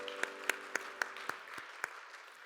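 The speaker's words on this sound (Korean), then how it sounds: "서로를 격려하면서 박수하겠습니다" Sparse, scattered claps from a church youth worship congregation, about eight distinct sharp claps spread evenly over two seconds, fairly quiet, with a faint tonal hum beneath.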